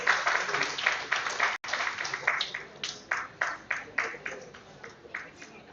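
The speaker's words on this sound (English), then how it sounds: "Please give her a big round of applause." An audience at a national mental health conference applauds to welcome a session chair, steady clapping from a crowd that carries on for several seconds with a brief gap, some voices mixed in.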